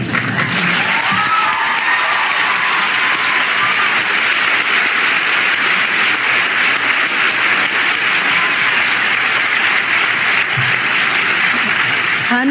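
An audience claps loudly and continuously in a room, a dense, even roar of applause that holds steady from start to finish with no pause.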